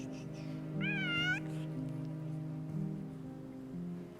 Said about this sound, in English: Do you have a cat?